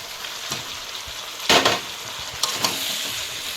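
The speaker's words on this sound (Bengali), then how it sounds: "মাংসের সঙ্গে আলুটা মিশিয়ে আরও একটু মেলে চেড়ে কষিয়ে নেব" Chicken and fried potatoes sizzle in a pan under a constant hiss, with a few louder scraping stirs of a spatula.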